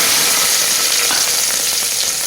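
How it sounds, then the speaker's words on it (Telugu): Onions dropped into hot oil, giving a loud, dense, unbroken sizzle heard up close with no voices. "ఇవన్నీ ఫస్ట్ ఉల్లిపాయలు వేస్తున్నాను"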